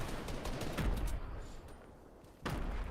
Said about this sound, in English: A lot of explosions coming down there. Looks like they're chucking some grenades in there.